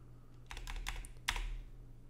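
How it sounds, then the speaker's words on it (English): Short burst of typing on a computer keyboard, a quick cluster of close, crisp key clicks followed by one firmer keystroke, alone over faint background hum. "what you're going to do is just type in LoRa"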